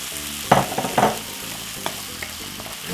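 Mushrooms and white onion sauté in a pan for a scrambled egg wrap, with a close, steady sizzle and a few sharp bursts of stirring near the start, then quieter scrapes.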